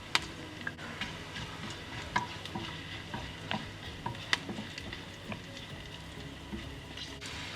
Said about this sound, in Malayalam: ഇഞ്ചിയുടെയൊക്കെ പച്ചക്കുത്ത് മാറുന്ന വരെ നമുക്ക് നന്നായിട്ട് ഇതൊന്ന് വഴറ്റി കൊടുക്കാം.